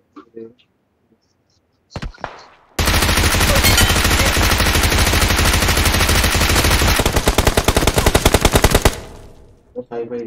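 Sustained automatic gunfire in PUBG Mobile, a loud continuous burst lasting several seconds that breaks into distinct rapid shots near the end, preceded by brief faint voices and a short sharp report.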